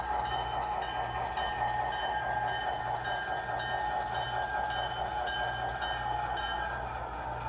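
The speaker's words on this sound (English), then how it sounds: "Okay, CN 4110. Another GP9 from the latest release from Rapido." A Rapido model CN GP9 diesel locomotive, number 4110, runs with a steady low motor hum and a faint rhythmic rail clicking, close and constant throughout, with no talking.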